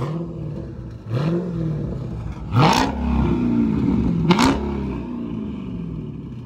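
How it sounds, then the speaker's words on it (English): A Charger SRT 392 Scat Pack V8 with catless, mid-muffler exhaust revs several times in quick bursts, each rise and drop of pitch loud and close, over a rumbling idle. "Now he gonna give y'all a few revs real quick."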